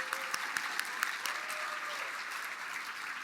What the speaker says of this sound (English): We'd also like to recognize the Nashing School Board for being here today, so can give them a round of applause